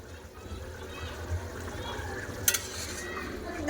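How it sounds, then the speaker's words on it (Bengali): Cauliflower and potatoes simmer in water in a covered pot, giving a soft bubbling hiss with a brief clatter near the end, while someone talks over it. "জল দিয়ে চাপা দিয়েছিলাম খুলে দেখে নেবো কত সুন্দর ফুটতিছে"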